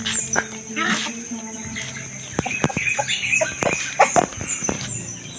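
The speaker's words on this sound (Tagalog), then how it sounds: "So yan pa yung mga manok namin." Chickens cluck and squawk close by, with wings flapping and scattered rustles, a busy barnyard commotion of short irregular calls.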